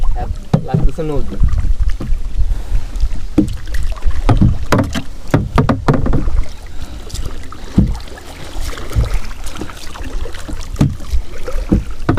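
Kayak paddling on a river in Kaptai, with rhythmic splashing and dripping water strokes close to the microphone over steady wind noise, and people talking now and then.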